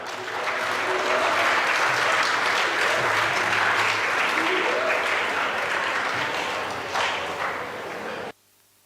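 An audience at a memorial lecture applauds an architect invited to give the vote of thanks, loud sustained clapping for about eight seconds with some murmuring in the crowd, then a sudden cut to quiet.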